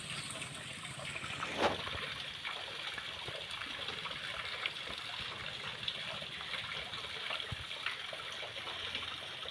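Water trickling and splashing into a small stone pool, a steady gentle babble with small drips, close and continuous, no voices.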